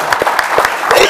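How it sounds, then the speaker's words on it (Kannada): Applause from the audience at a film promotion interview with the '45' movie cast, a brief burst of clapping that rises and falls, mixed with voices talking over it. "ಬರ್ಲಿ ಚಪ್ಪಾಳೆ"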